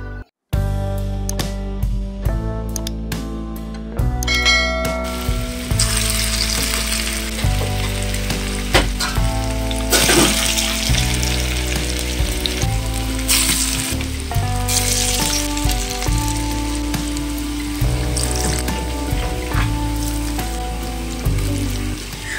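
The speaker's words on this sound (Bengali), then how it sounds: "আমি এখানে বড়াগুলোকে একটা শেপ দিয়ে নিচ্ছি, তারপর এগুলো গরম তেলে ভেজে নেব।" Small shrimp fritters (kucho chingri bora) frying in hot oil, a steady, crackling sizzle running throughout beneath loud background music.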